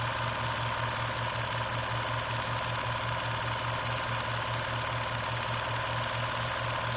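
An old-style Bernina 830 sewing machine running after its gears are greased, a steady, close, continuous mechanical whir with a rapid rhythmic knocking pulse and no talk.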